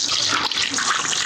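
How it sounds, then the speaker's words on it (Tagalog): Water is poured over a person being bathed and scrubbed, giving a brief, continuous splashing gush that sounds close and fairly loud. "Tubig."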